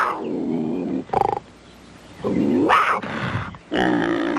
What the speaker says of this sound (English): That was a full-grown panther.